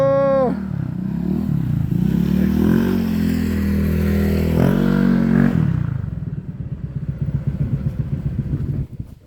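A water pump engine starting with a rising rev, then running at a rough, steady putter before winding down into uneven chugging, loud and close.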